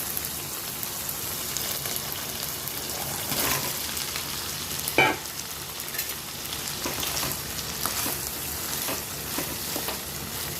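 Ridge gourd slices go into a pan of sizzling potatoes, giving a steady, dense frying hiss with a brief louder burst midway as the vegetable lands in the hot oil.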